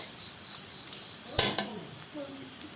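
Chow mein and Maggi noodles being mixed in a pan, with a clear scrape and clatter of a utensil against the pan midway and a few light clinks before and after, fairly quiet.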